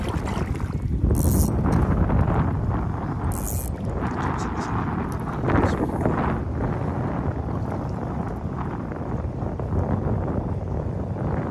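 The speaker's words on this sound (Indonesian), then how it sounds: "Ya, anginnya sudah mulai tenang." Strong wind buffeting the open air on a rocky, shallow sea cliff during shore fishing, a steady loud roar with gusty swells and microphone rumble.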